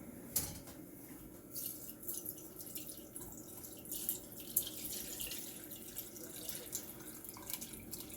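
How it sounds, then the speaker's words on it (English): Braising liquid for Cabernet braised short ribs poured through a strainer to catch garlic cloves, a faint steady trickle and splash of liquid with light drips, heard close and low in level. "So now I'm going to strain this through a strainer just to get all the cloves of garlic out."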